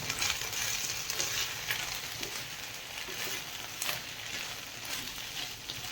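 Vegetables roasting with a little salt in a pan for a paneer and okra curry: a dense, steady sizzle and crackle of frying that continues throughout, with occasional louder pops and stirring scrapes.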